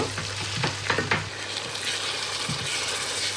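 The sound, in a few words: onions and whole spices frying in oil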